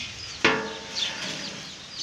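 Newly hatched chicks from an egg incubator give faint, high peeps over a quiet background, after a sharp knock near the start.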